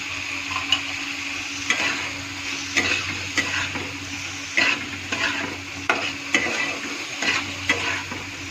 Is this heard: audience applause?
no